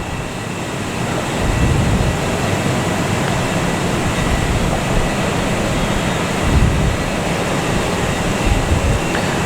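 A Southwest Airlines Boeing 737 lines up for departure at Boston Logan Airport, its jet engines giving a steady, broad rumbling roar from some distance that swells slightly now and then.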